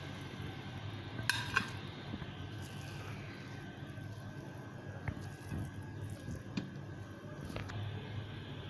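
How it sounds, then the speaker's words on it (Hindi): Degi biryani served out of a pot with a utensil, a few sharp metallic clinks and scrapes against a quiet kitchen background, close but soft, with no talking. "अब मैं इसको डिश आउट कर रही हूँ"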